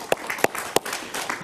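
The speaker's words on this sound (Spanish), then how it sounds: "Un aplauso para él, por favor." A brief, faint burst of studio audience clapping on a television talk show, with a few distinct sharp claps standing out over a soft spread of hands.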